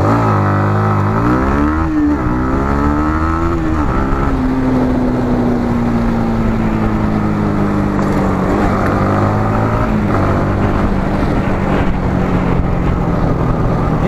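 A Yamaha MT15 BS6 motorcycle launches hard for a 0 to 60 run, its engine revving loud and close with rising pitch sweeps through several gear shifts, continuous and without talk.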